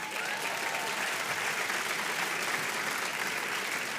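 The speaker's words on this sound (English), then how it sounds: "Give her a round of applause." A room full of people gives a steady round of applause at a Barbara O'Neil event in Blanchardstown, the even, dense clapping holding at a constant level throughout.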